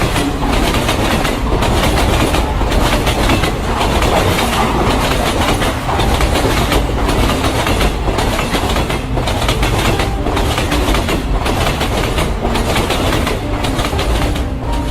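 A train runs on rails with a steady, loud rumble and rhythmic clickety-clack from the wheels, heard close throughout without voices.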